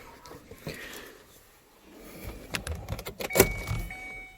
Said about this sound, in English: You put the key in, turn it to the run position